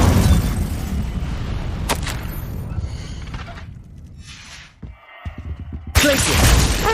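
Incendio fire spell cast in a Harry Potter video game, a sudden whooshing burst with crackling and booming effects, followed by brief clicks, then another loud blast of fiery noise near the end.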